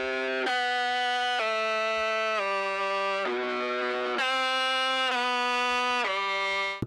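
Sung mouth synth processed with chorus, flanger and a limiter, sub lows removed, holding a series of sustained pitched notes that step between tones, moderately loud and alone.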